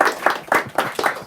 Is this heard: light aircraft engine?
no